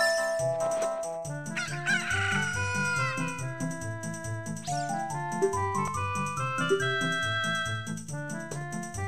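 Blue cucco chicken from Zelda Ocarina of Time, game clucks and a rooster-like crow over a bright looping musical backdrop, with chirpy tonal calls repeating throughout.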